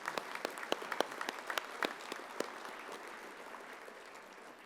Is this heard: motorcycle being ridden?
no